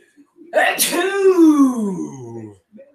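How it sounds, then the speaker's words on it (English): A person sneezes once, loudly and close up, with a sharp burst followed by a drawn-out voiced falling tone, then silence. "By the way, I have to sneeze."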